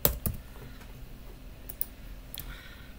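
A few sharp key clicks from a computer keyboard sound close and fairly quiet, spaced irregularly across a short stretch of near silence.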